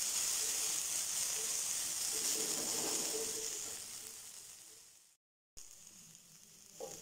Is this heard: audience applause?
no